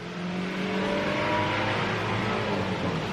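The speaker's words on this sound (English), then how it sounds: "Okay, do you hear that car?" Car engine droning steadily as the vehicle drives past on a residential street, a smooth continuous whir with rising hum, fairly loud and alone without talk.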